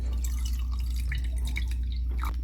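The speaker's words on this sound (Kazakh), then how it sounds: "шайнекке 1 литр суық су құйып" Cold water poured into a teapot fitted with a strainer, a close continuous gurgling and splashing stream with bright drip-like splashes over a low steady hum, with no voices.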